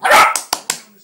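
A West Highland White Terrier lets out one loud close bark followed by two shorter, sharper yaps in quick succession.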